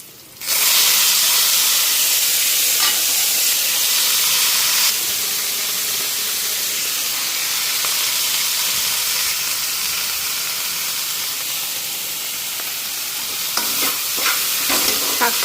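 A steady, loud sizzle and hiss of data shak (amaranth greens) being stir-fried in a pan, with faint clinks of stirring and a few sharper crackles near the end, no talk.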